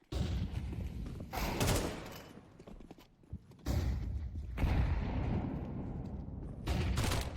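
Gunfire in a competitive tactical shooter video game, with several bursts of rapid shots and heavy thuds separated by quieter gaps, heard at moderate level with a commentator's voice faintly present.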